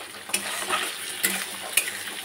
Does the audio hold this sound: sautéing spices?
yes